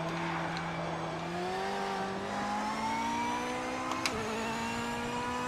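Mustang or Corvette race car engine in a Project Motor Racing multiplayer race, revving steadily with a rising pitch and a brief sharp transient near the end, continuous and mid-loud with no talking.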